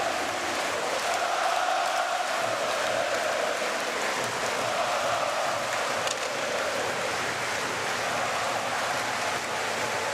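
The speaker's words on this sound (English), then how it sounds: "listen to this crowd come alive" Crowd noise fills an arena at an IIHF World Championship ice hockey game between Poland and USA, a dense continuous roar of cheering fans held at a steady, loud level throughout with no break.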